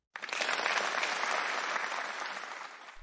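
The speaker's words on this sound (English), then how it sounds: "Let's give her a round of applause for her exceptional skills and expertise." A round of applause bursts in suddenly after silence, a dense, even patter of many clapping hands that holds steady for about three seconds before easing slightly.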